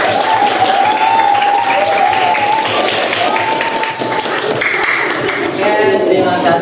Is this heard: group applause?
yes